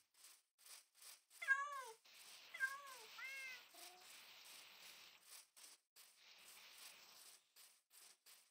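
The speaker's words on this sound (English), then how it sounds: "Guys, cats." Cats meow in the Minecraft survival server DecaySMP, a few clear rising-falling calls close together near the start, then quieter ambient game sounds with steady soft ticking.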